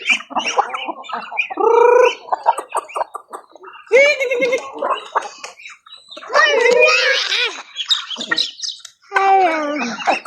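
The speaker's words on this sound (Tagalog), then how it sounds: "Inahanan niyo mga itik." Mother ducks on a backyard farm make loud, harsh, repeated calls up close, coming in bursts with short pauses between them.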